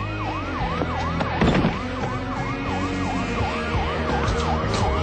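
A police siren wails in a steady repeating up-and-down sweep, loud and close throughout, with no talking.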